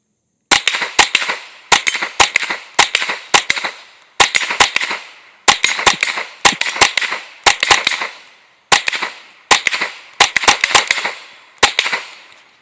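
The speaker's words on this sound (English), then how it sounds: "Let's fire our last round, so the FPC 22." A Smith & Wesson FPC 22 folding .22LR rifle fires a steady series of sharp, loud cracks, single shots and quick pairs with short pauses between them, each one decaying fast.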